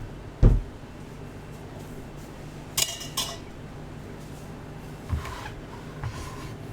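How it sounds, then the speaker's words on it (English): Camera bumped in a home kitchen while meatball subs are made, a few sharp knocks and clinks spread out with quiet gaps, with one thud near the start and lighter taps later. "Sorry for bumping the camera there."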